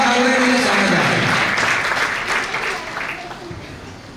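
A church congregation claps loudly at a midnight Resurrection service, a dense burst of applause that slowly fades over a few seconds, mixed with crowd voices.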